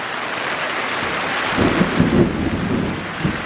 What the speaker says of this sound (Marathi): गडगडत आहे विजा गडगडत आहेत